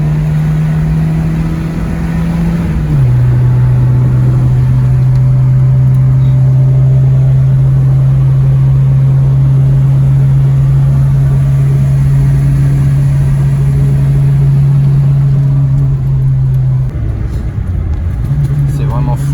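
A Renault Super 5 GTS engine runs at a steady, loud, droning hum, its pitch stepping down once early on and dipping briefly near the end, with people talking over it.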